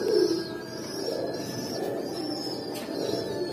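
Pigeons coo softly and continuously inside a Bangladeshi pigeon farm housing high-flyer breeds. Low, rolling calls overlap at close range against a steady ambient background, with a few faint higher chirps mixed in.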